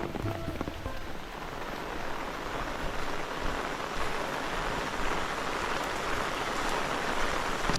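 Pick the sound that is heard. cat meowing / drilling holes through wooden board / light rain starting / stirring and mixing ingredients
light rain starting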